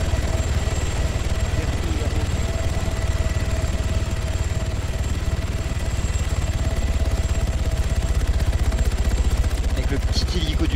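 A SAMU ambulance helicopter in the video game Arma 3 Altis Life drones with a loud, steady rotor and engine roar throughout, with voices faintly under it.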